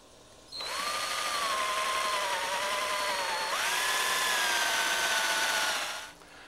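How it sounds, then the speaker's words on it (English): A power drill bores holes through the wood of a homemade plant press, a loud sustained motor whine that shifts pitch upward midway as the bit works through, then spins down at the end. "And now we're ready to drill."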